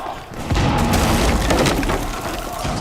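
Grenades go off in a Rainbow Six Siege esports match, a loud booming blast with crackling debris that rolls into a sustained rumble of destruction, close and dense.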